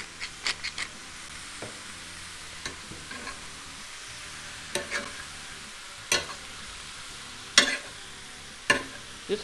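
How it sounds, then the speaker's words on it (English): Meat searing in a pot for chili, seasoned with salt and pepper over low heat; a soft, steady sizzle runs underneath a handful of sharp scraping and stirring clicks spaced irregularly throughout. "Just cook it up a little bit to give to sear the outside of the meat"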